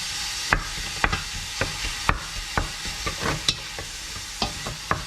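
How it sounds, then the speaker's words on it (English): Ground meat stirred and broken up in a hot pan while it browns for a pasta meat sauce, with a steady sizzle under repeated sharp scrapes and knocks of the spoon at an uneven rhythm, close by. "Let's stir this around. Good. And break up the meat."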